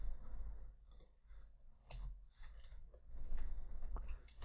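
Sharp plastic clicks of keyboard arrow keys tapped in irregular bursts, close and fairly quiet, with a low hum underneath.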